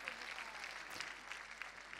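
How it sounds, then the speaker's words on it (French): Applause from the audience at a CSI 5* show jumping event, the Prix Hermès Sellier at Saut Hermès, a steady distant patter of clapping that carries through the whole moment with an announcer speaking over it. "un petit peu plus d'applaudissements avec ce beau palmarès du cavalier Hermès Partner Rider, Steve Garnard."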